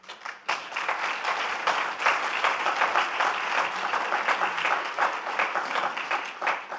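Audience applause after a talk on farms, food and health, loud, dense clapping that starts abruptly and holds steady for several seconds with slight swells.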